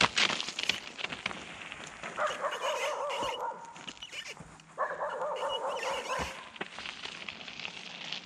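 Dog barking and whimpering outdoors, sharp yips and whines in two clustered bursts over steady background noise, fairly faint and without clear speech.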